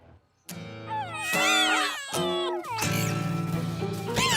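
Several cartoonish cat meows overlap in a rising, wailing chorus, loud and close, with drawn-out yowls.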